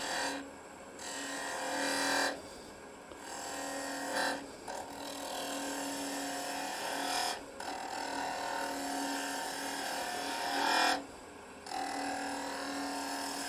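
Woodturning gouge cutting the outside of a spinning wooden scoop blank on a lathe, a steady close scraping hiss broken by several short pauses as the tool lifts off the wood.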